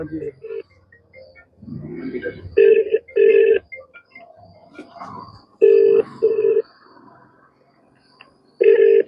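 A telephone rings unanswered at a flood control room, repeated loud ring bursts in a steady rhythm with pauses between, under intermittent talk and background noise.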